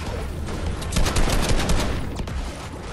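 Rapid gunfire crackles in a dense, loud burst of repeated shots, close and harsh, running almost continuously with no talk over it.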